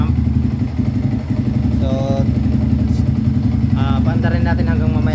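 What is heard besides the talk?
engine idling after water pump repair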